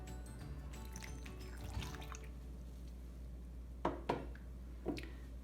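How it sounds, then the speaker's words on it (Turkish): Lukewarm water and olive oil poured into focaccia dough in a kitchen, heard as soft, faint liquid drips and splashes with a few brief wet squishes near the end. "suyu ve zeytinyağını ekliyorum."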